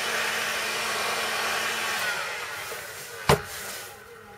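A heat gun shrinks heat shrink tubing down over a tool, giving a steady, close airy roar that runs evenly throughout, broken near the end by a single sharp click before the blowing eases off.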